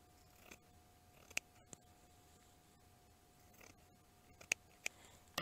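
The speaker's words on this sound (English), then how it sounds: "I'm just going to trim away the excess lace" Scissors trimming excess lace from a paper-pieced quilt block, heard as a few sharp, isolated snips spread apart, close but quiet against a near-silent background.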